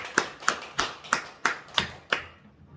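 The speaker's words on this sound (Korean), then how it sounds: "영광의 박수를 하나님께 돌립니다" A church congregation claps in unison, giving six evenly spaced sharp claps with a roomy echo that then fade into silence.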